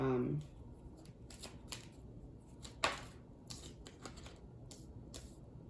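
Tarot cards being handled make crisp, intermittent flicks and taps, faint and close. A brief voice is heard at the very start.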